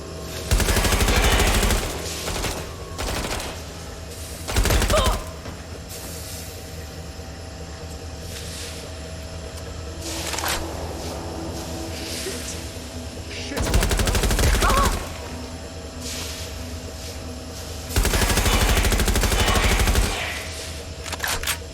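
Bursts of gunfire in the Watch Dogs: Legion boss fight against Nigel Cass, loud broadband volleys of a few seconds each, recurring at intervals over a steady background of game ambience and machinery hum.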